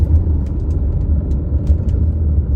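A 2017 Buick Regal's engine pulls steadily through a corner, a continuous low rumble and road drone filling the cabin at close range with no break in loudness.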